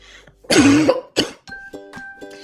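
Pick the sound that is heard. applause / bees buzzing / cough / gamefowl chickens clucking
cough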